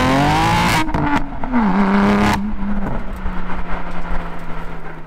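A BMW M3 with an equal length exhaust on a race track: a loud engine note rises and falls through shifts, then drops to a steady lower drone as the car pulls away.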